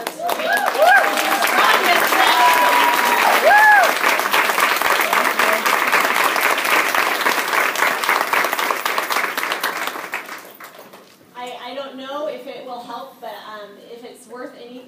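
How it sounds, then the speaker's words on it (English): Indoor audience at a company recognition event giving a sustained round of applause with loud, dense clapping and a few whoops, fading out after about ten seconds as a person begins talking. "give Amy the round of applause that she deserves"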